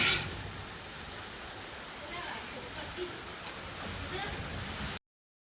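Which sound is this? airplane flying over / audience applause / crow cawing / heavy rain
heavy rain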